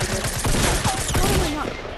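Rapid gunfire in the video game Fortnite crackles in a dense, loud burst of shots through the clip, with game noise mixed in.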